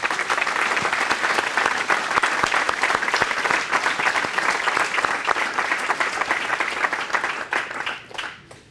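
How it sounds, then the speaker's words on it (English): Sustained, loud audience applause at a Veterans Day ceremony honoring Quilts of Valor recipients, dense clapping that holds steady for about eight seconds before tapering off at the end. "a round of applause for all of these 23 recipients of Quilts of Valor"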